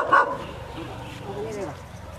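Close by, a Thai Ridgeback dog at an elephant sanctuary gives one sharp bark, then a few softer whimpering yips, all under a person speaking.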